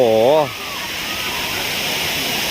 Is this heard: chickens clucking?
no